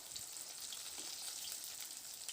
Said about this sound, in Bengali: তো মিনিট দু তিনেক ওই পাশটা ভাজার পরে আমি উল্টে দিয়ে এই পাশটাকে ভেজে নেব